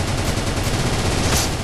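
Dense, continuous gunfire from shooting zombies in the video game Murder Miners, a rapid unbroken volley filling the clip without speech.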